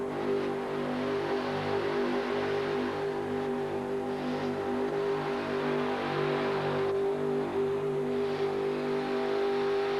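Monster truck engine roaring steadily under load during a truck pull at a 1989 USHRA event in Phoenix, a loud sustained drone that continues for the whole stretch.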